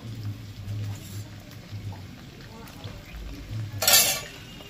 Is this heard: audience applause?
no